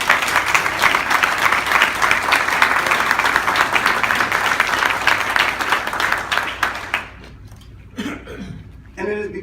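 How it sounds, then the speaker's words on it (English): Audience applause at the 2016 East Central Province Council State of the Province address: dense, sustained clapping from a large crowd for about seven seconds, then fading into scattered claps and a few coughs. "please give them a round of applause."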